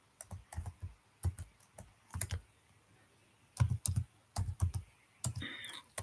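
Python code typed on a computer keyboard, close and crisp, with quick bursts of key clicks separated by short pauses.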